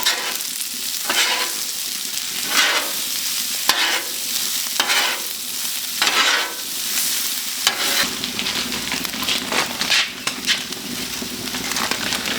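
Leftover brisket, eggs, cayenne, salt and black pepper for a breakfast hash stirred together in a hot pan: loud close sizzling with repeated sweeping stirs in bursts, no voices.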